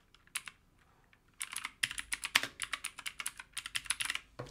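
Rapid, uneven keystrokes on a computer keyboard while text is typed into a document, a short sparse burst of clicks followed after a pause by a denser run of close, crisp taps.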